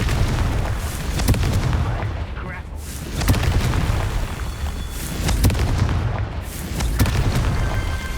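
Confringo spell blasts in the Hogwarts Legacy video game, a dense run of deep booming explosions and crackling bursts over a continuous rumbling background, loud and layered, with no clear pauses between impacts.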